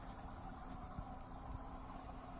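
A car engine idles quietly and steadily, a faint, even low rumble held for a couple of seconds with no voices over it.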